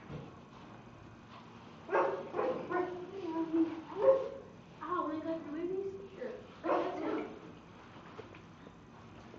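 A dog barks and yelps in a handful of uneven bursts nearby, with a person speaking briefly alongside.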